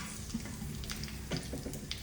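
Red chillies sizzle in hot oil for tempering an Onam dish, a soft steady frying hiss with small crackles and pops, close and quiet, with no talking.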